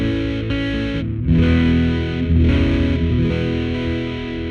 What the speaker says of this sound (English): I have the Apocalypse, which is a surprisingly versatile dirt and fuzz pedal.